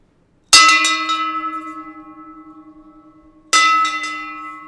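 Two loud bell strikes from bells rung by pulling a bell rope in a tiny, confined bell loft, each clang ringing out with a long, slowly fading hum, the second about three seconds after the first.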